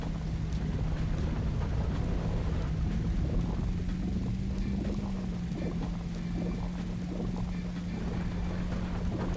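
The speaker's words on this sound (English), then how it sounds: "I can hear their engines showing up" Racing car engines in a video game drone steadily throughout at one pitch that slightly wavers, under a dense rushing noise with no clear approach or pass and no talking.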